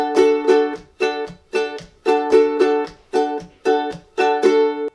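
A ukulele strummed briskly in a bouncy rhythm, ringing chords alternating with short muted percussive slaps, played alone and up close.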